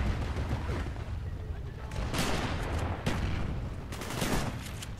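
Rapid gunfire from a Black Ops 1 match, dense bursts and booms layered with a steady rumble, with sharper loud volleys around two, three and four seconds in.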